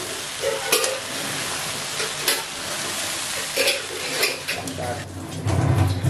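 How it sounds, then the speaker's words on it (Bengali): A mixture frying in a pan for a tiffin batch sizzles steadily as a utensil stirs and scrapes it, with a few sharp clinks against the pan and a louder burst of sizzling toward the end. "তো চলো আমি একটু ভেজে নিই"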